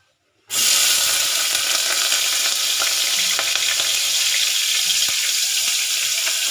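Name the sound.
washed onions frying in hot oil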